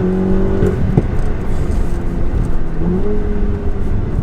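A VW Golf R engine revs hard and climbs to redline, with a quick gear change partway through, then pulls strongly again, loud and close.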